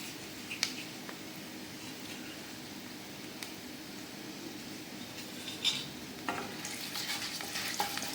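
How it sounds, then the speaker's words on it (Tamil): Quiet, steady sizzle of fennel seeds frying in hot oil, with a few faint clicks and pops scattered through. "சோம்பு நல்லா பொரிஞ்சிச்சு"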